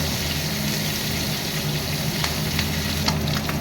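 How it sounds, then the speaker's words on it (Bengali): Magur catfish frying in hot oil, with a loud, dense, continuous sizzle and crackle close by, plus a few sharper pops and spits, and no talking. "মাছগুলোকে একটু লাল লাল করে ভেজে নেব"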